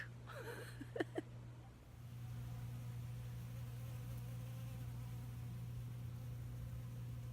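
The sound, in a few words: honey bees buzzing around their hive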